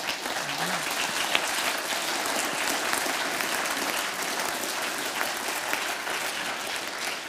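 Steady, dense applause from an audience at a SIAF event in Zurich with Professor Michael J. Sandel, sustained evenly throughout without talk.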